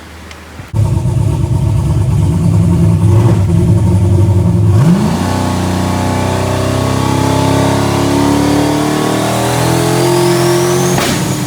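An Outlaw List drag race car fires up with a sudden loud roar, settles into a rough, throbbing idle, then revs up and holds a higher steady note while warming up, very close and with no voices.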